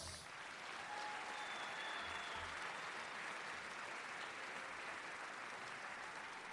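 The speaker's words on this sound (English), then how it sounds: "Please give them a round of applause." Sustained applause from a large audience at a high school graduation ceremony, steady and dense throughout at a moderate distance, with no one speaking over it.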